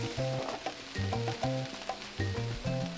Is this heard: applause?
no